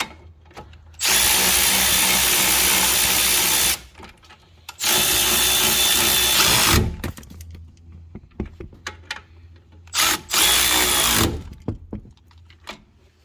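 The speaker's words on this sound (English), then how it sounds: "So we're just gonna use this side ratchet right here." A side ratchet runs on a brake caliper bolt during a front brake job on a Ford Edge, giving three loud, close whirring bursts: two long runs and a shorter one, separated by quiet gaps.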